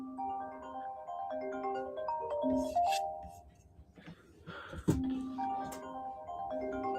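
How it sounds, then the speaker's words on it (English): A melodic electronic phone ringtone in a video game chimes repeatedly in a looping tune, pausing briefly amid a clink and some faint voice before resuming. "A wireless caller is calling me."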